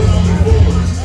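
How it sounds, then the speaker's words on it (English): Indoor crowd at an amateur boxing fight night, a steady low murmur of many voices filling the hall, continuous and fairly loud with no single voice standing out. "Great crowd on hand."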